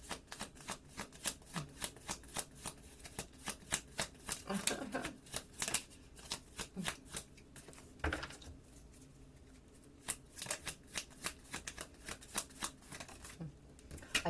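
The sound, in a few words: shuffling a deck of cards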